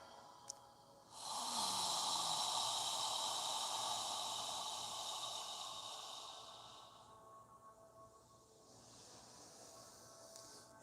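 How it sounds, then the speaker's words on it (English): A long, steady open-mouthed exhale, soft and breathy like fogging a mirror, drawn out for several seconds close to the listener before tapering off. "exhale through your mouth. As you exhale, imagine you're fogging a mirror with your breath"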